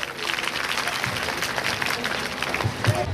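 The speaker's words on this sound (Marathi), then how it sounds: "टाळ्या चालू झाल्या पाहिजे" Audience applause at an indoor felicitation ceremony, a continuous burst of clapping from a crowd at moderate distance, with some voices mixed in.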